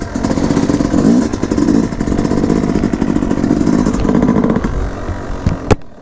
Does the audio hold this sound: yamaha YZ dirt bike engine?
yes